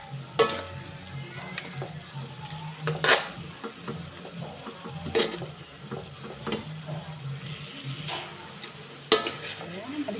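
Chicken liver being added to a frying pan of sauteed bihon ingredients with a little soy sauce, then stirred with a utensil: scattered scraping clinks against the pan over a low, soft sizzle.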